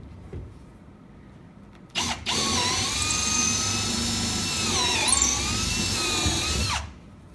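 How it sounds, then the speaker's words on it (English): A power drill bores a hole for a 5/16 inch pin, its motor whining steadily for about five seconds with a brief dip in pitch under load, close and loud, then stopping. "So we will go ahead and drill that."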